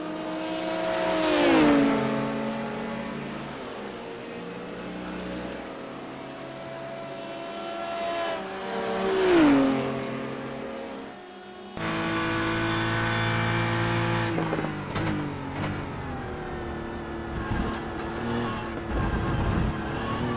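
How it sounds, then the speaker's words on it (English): LMP prototype race cars on the Road Atlanta circuit, engines rising to a loud pass with a clear pitch drop, another car sweeping by moments later, then sustained engine drone at steady volume. "Alec Vorotnik trying to go on by here in the LMP"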